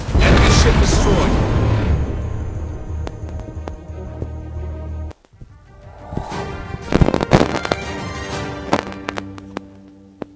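A warship blows up in the naval battle game World of Warships Blitz: a loud, booming blast that rolls on and fades, then a stretch of further crackling explosions.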